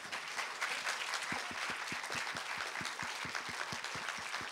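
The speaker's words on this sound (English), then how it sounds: "Round of applause." Audience applause fills a documentary film Q&A at Sheffield Doc/Fest 2012: dense, steady clapping from a large crowd, heard at moderate distance for several seconds without letup.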